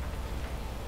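Steady rain hissing across the ground in the Resident Evil 2 Remake game world, a continuous low wash with no breaks, filling the whole moment.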